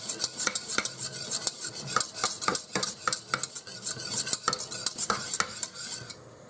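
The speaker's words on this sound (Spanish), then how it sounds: "removemos para que no se hagan grumos" A thickening sauce for a Greek-style moussaka or beef lasagna being stirred in a pot, with rapid, close scraping and clinking of a utensil against metal and a faint simmer beneath, no talking.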